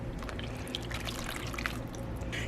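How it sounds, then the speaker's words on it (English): Donut batter pouring into a mixing bowl for Christmas donuts, a soft, quiet trickling and dribbling of thick liquid that runs steadily for a couple of seconds. "This is where I want to pour in the rest of the batter here."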